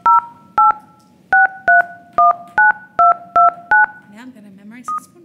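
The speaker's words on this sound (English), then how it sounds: "I click redial and it doesn't do anything." A telephone redials with about ten crisp, evenly spaced DTMF tone beeps, loud and close, followed by a brief murmur and one last tone.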